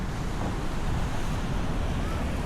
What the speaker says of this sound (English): This is the other side of the ocean, Atlantic Ocean.